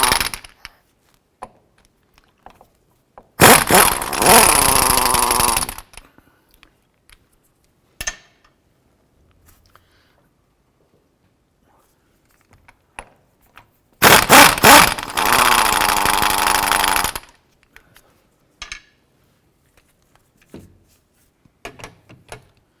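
Two bursts of ratcheting or power-tool whirring, each a few seconds long, remove bolts from the rear of a 2005-10 Jeep Grand Cherokee drive shaft, separated by quiet clicks and small metallic taps.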